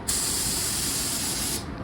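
A spray gun shoots car paint onto a handheld-free spray-out card in a continuous, loud, close hiss lasting about a second and a half, then cutting off abruptly.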